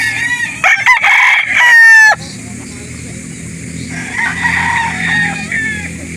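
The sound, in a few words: rooster crowing, a 9-month-old stag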